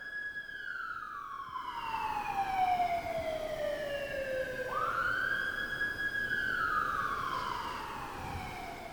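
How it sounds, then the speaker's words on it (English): Emergency vehicle sirens on a New York City street, a long falling wail that sharply jumps up and sweeps again, sustained and fairly near over low traffic rumble. "if you can hear the sirens, the New York City sirens"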